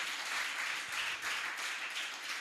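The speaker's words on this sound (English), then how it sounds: "Please, a round of applause for him." A conference audience at an export summit claps steadily in a dense, even wash of applause that holds for a couple of seconds, fairly faint, with no voices.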